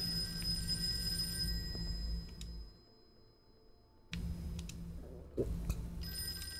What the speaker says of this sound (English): you need me to answer the phone?